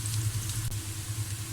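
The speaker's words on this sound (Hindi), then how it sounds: "अब हम इसमें प्याज डालेंगे, 2 कटे हुए दरमियाने। ये देखें, तब तक भुनेंगे जब तक ये गोल्डन ब्राउन नहीं हो जाता।" Two medium chopped onions frying in oil in a pan give a faint, steady hiss with soft, scattered crackles, close by and with no voices.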